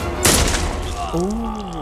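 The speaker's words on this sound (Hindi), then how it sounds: "रॉबर्ट गोली चला" A sharp, loud gunshot bursts out in an action film scene, followed by a booming tail, while a voice speaks over the fading echo.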